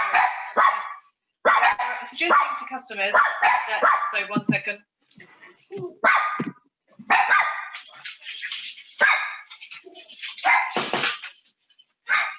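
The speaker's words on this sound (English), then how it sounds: "Do excuse my dogs." Dogs bark and yip repeatedly nearby, their barks mixing with a person talking in short phrases over the noise.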